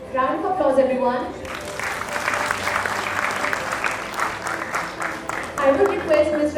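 A crowd breaks into sustained applause at a national entrepreneurship summit award ceremony, many hands clapping densely for several seconds, framed by a speaking voice just before and after.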